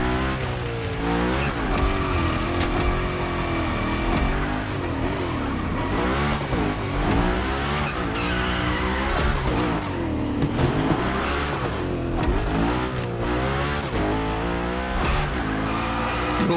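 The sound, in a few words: car drifting in big slides in a racing video game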